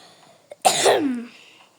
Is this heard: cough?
yes